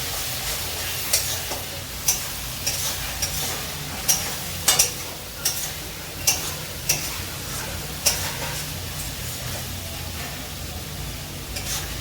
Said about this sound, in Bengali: এবারে মশলাটাকে ভালো করে কষাবো